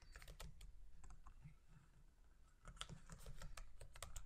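Typing on a computer keyboard gives close, quiet clicks in irregular bursts, with short pauses between runs of keystrokes and no talk.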